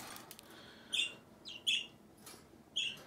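Two budgies chirp back and forth indoors, short bright tweets in about four bursts spaced across a few seconds, fairly close over a quiet low background hiss.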